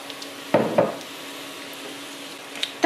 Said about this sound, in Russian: Теперь я буду обжаривать лук и морковь.